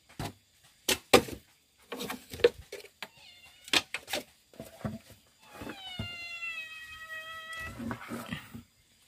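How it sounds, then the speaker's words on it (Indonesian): A hungry cat meows repeatedly near a shallow fish pond, several close, drawn-out calls with one long wail, mixed with knocks and thumps. "Suara kucing"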